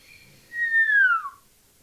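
A single thin whistle through the teeth slides downward in pitch for under a second, soft and close, with quiet around it.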